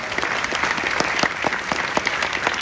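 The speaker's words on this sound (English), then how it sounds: "Give him a hand clap." Luncheon audience at a Rotary interclub event applauds Tom McNeil, a dense, steady round of clapping from many hands, fairly close and even in loudness, with individual sharper claps standing out.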